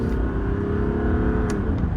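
A 1995 Mercedes-Benz E300 Diesel accelerating, heard from inside the cabin as a steady, loud low engine drone with a rising tone and faint rustles.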